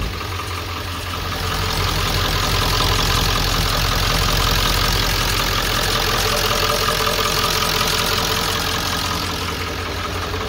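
An old Ford OBS 7.3 diesel engine idles steadily, a loud, obnoxious clattering rumble with a fast, even knocking pulse, heard close up throughout with no talking.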